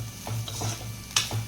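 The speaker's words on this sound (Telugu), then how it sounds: "ఒకసారి అయితే కలిపేసుకుంటున్నా." A spoon stirs chilli powder and garam masala through a frying mixture in a pan, giving a few scraping strokes over a soft, steady sizzle, close and fairly quiet, with one sharper clink near the end.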